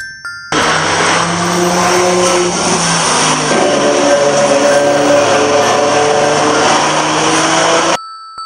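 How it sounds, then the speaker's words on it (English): A car engine hums steadily for several seconds, loud and close, with a faint tonal whine riding over the running motor. "This is a car."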